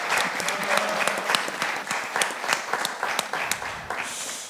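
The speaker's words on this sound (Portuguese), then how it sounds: "Salva de palmas para o Marcão" Lively applause for Marcão on a health podcast, a group clapping with crisp, clearly separated hand claps at close range that taper off in the final moments.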